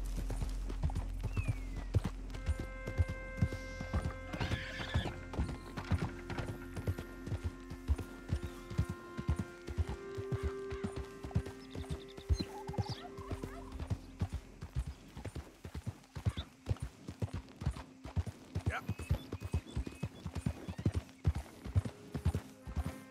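Horse hoofbeats clip-clop steadily while riding in the video game Red Dead Redemption 2, a continuous rhythmic gait running throughout over a layered game soundtrack with sustained tones, with an occasional faint whinny.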